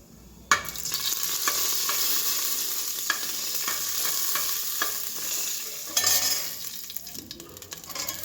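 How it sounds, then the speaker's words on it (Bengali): Cumin seeds and dried chili sizzle and crackle steadily in a little hot oil, with a spoon stirring, scraping and tapping against the pan; no talking. "তেল দিয়ে জিরে ফোড়ন দিয়ে একটু শুকনো লঙ্কা ফোড়নও দিয়ে দিলাম।"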